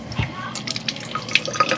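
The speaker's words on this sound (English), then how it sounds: "turn all the faucets inside the RV to the hot water so we can drain all the hot water out" Hot water drips and trickles from RV faucets as the water heater drains, with small irregular splashes and a steady faint flow in the background.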